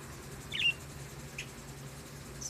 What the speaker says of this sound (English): Blackbirds are coming in.